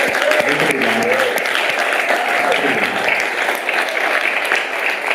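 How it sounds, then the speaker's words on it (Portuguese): Applause from a live audience at an instrumental choro concert, sustained and loud, many hands clapping together, with a few voices and some cheering mixed in. "uma salva de palmas para essa equipe inteira"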